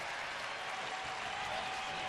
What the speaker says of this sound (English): So, crowd on its feet, feeling a little excitement here.